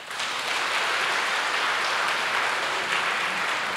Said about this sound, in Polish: poproszę o bardzo gromkie brawa dla Państwa